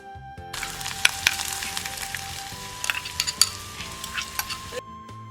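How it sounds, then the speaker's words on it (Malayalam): Finely chopped ginger frying in a pan for Kerala puli inji, a steady close sizzle broken by sharp crackles and the occasional scrape of a stirring spoon, with a low hum beneath and no talking. "അപ്പോൾ ഇഞ്ചി നമുക്ക് അതിനകത്തേക്ക് ഇട്ട് കൊടുക്കാം."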